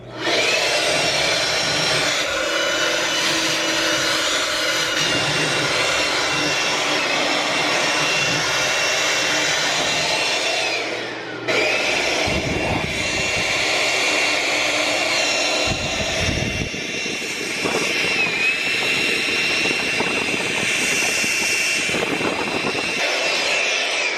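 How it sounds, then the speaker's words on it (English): A handheld blower roars steadily while blasting dust out from behind a heavy piece of furniture, a loud continuous jet-like rush that dips briefly midway and surges again, with no talking. "I'm going to go ahead and use the blower, and I'm going to blow behind this piece of furniture"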